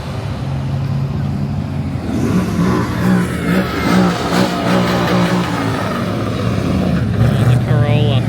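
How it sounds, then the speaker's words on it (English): Engine of a Toyota Corolla drift car revving at a drift event, loud and sustained close by with rising and falling pitch and rough throttle blips, with people talking over it. "The Corolla."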